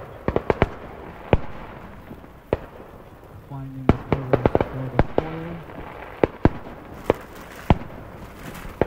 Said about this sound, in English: Fireworks go off in the backdrop.